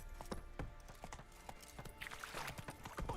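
Roach the horse trots in The Witcher, quiet clip-clopping hoofbeats in a quick steady rhythm with faint background music.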